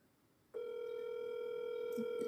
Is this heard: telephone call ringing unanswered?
yes